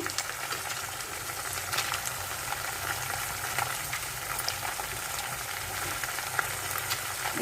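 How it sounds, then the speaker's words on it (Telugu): Dried red chillies frying in hot oil with tempering spices for lemon rice: a steady close crackling sizzle that runs the whole time without a break. "పోపులు వేపునాయి కదండి ఎండుమిర్చి కూడా వేసుకుందాము"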